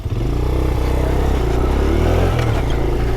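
Motorcycle pulling away from a stop, its engine revving steadily and close, a continuous throaty drone with a brief shift in pitch partway through and no voices.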